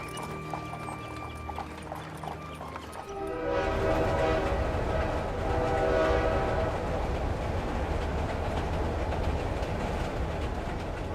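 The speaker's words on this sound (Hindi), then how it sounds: "जहां लोग ट्रेन से सफर किया करते थे।" A train rolls past with a sustained horn blast at first, then the loud rumbling and clatter of rail cars takes over and continues steadily close by.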